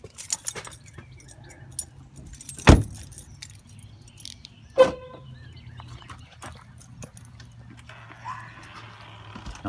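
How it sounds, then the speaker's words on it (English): Car keys jangle briefly twice as they are pulled from a Dodge Avenger's ignition, close and clear over a quiet low hum, with a faint steady tone near the end. "Remove the keys from the ignition"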